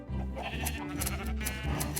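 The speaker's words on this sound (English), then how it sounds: "I only had to go next door to get wool from my sheep" Minecraft sheep bleat repeatedly in overlapping calls from a small flock, clear and fairly close over steady game ambience, with no voices.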